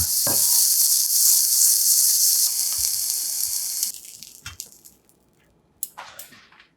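Salmon pan-frying with a loud, bright sizzle that holds steady for several seconds, then drops away to quieter crackles and a few sharp spatters near the end.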